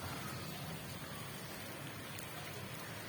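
Rain falling steadily in a dense, even hiss of drops on surfaces, loud and close, with no voices.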